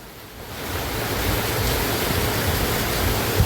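Strong wind drives heavy rain in a steady, loud broadband roar outdoors near an open field, building slightly and continuing without pause, with no voices.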